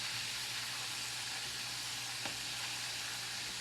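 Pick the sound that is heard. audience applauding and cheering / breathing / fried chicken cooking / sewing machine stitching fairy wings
fried chicken cooking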